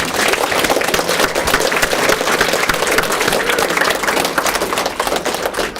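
A school audience gives Mayor Spano a round of applause at an award event, dense and sustained clapping from a crowd that stays loud and even throughout.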